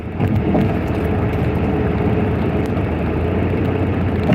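A car driving, with a steady loud rumble of engine and road noise heard from inside the cabin and no voices.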